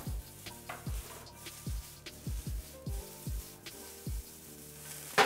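Chopped tofu hitting a hot frying pan already holding mushrooms, with a steady quiet sizzle broken by repeated short scraping stirs and tosses of a utensil against the pan, no talking.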